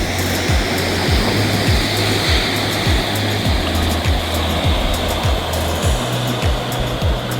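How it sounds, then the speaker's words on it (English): Ocean swell and surf breaking along a New Zealand coastline at a point, a steady broadband roar of water with a faint low pulsing underneath, continuous and fairly loud, with no voices. "Got a decent swell coming in."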